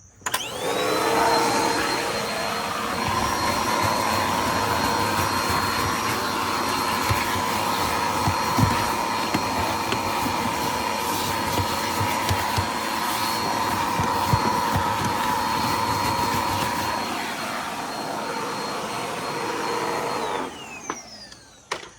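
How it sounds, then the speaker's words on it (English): A vacuum cleaner runs steadily and loudly from start to finish, a constant motor whine with a strong airflow roar, then cuts off near the end. "so got the vacuum here"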